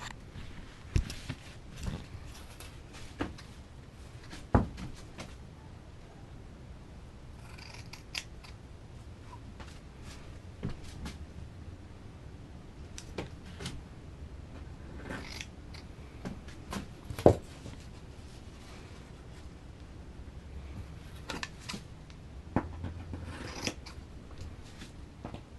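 Scissors making relief cuts in fiberglass cloth for a surfboard build, a long run of sharp, close snips and crisp crunches at an irregular pace, with soft rustling of the cloth between cuts.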